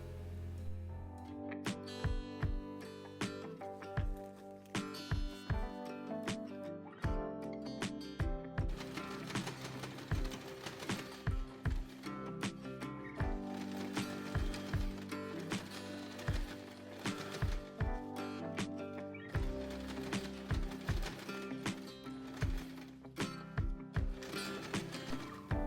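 A sewing machine top stitches fabric for a tiny backpack keychain charm, running in repeated fast mechanical bursts separated by short pauses, close and faint, with music playing throughout.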